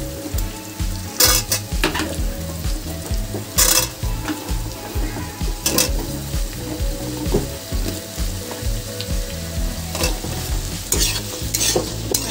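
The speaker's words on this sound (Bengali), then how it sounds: "পেঁয়াজটা হালকা ভাজা হয়ে গেছে। এবার আমি আলুগুলো দিয়ে দেবো।" Onion and potatoes sizzle steadily in a pan while a utensil stirs and scrapes, with sharp metallic clinks every few seconds. No one speaks.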